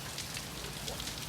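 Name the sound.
rain falling outside on a cold day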